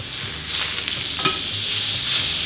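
Steak frying in a pan, a steady bright close sizzle with a few soft crackles and a faint clink partway through, no talking.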